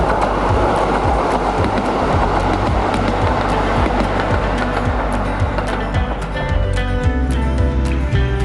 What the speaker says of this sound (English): From Oase Station, we ride the train to Odomari Station.